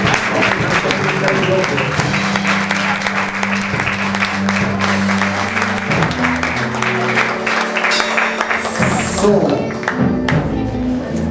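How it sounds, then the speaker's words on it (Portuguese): A church congregation claps in praise during a worship service, dense steady clapping over sustained music tones for several seconds, thinning near the end. "te louvamos com nossas palmas"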